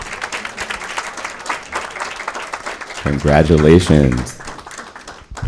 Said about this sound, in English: one more round of applause for Maximilian.